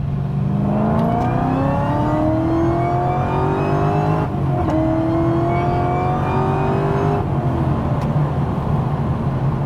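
A modified GTS Charger making over 700 wheel horsepower accelerates hard from the cabin, its engine note climbing loudly through two long pulls, with a brief dip between them for a gear change, and no talking over it.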